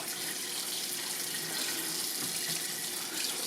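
Kitchen tap runs steadily into a sink as a pork roast is rinsed under the stream, a constant close hiss of splashing water with no pauses and no talk.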